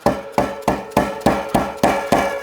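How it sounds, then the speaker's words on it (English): Rubber mallet tapping the pawls of a 2015 Cannondale Trigger mountain bike freehub back into place, eight evenly spaced sharp knocks in a steady rhythm, close and fairly loud with no talk. "get yourself a rubber mallet and hit it backwards"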